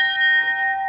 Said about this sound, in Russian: Колокола на 4 килограмма, на 7 килограмм,